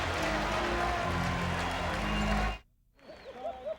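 Applause from a ballpark crowd for departing pitcher John Franco holds as a steady, broad wash, then drops abruptly into near silence and is followed by faint, unrelated sounds.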